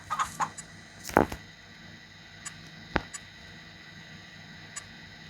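Chickens cluck in short, scattered bursts in the video game Farming Simulator 2, against a quiet background, a few sharp clucks spaced unevenly apart.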